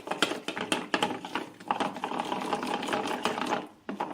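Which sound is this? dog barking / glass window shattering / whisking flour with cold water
whisking flour with cold water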